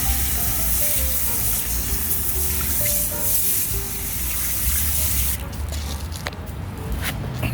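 Steady hissing spray of water rinsing a dirty thrift-store find, loud and continuous throughout, with a brief shift in texture near the end.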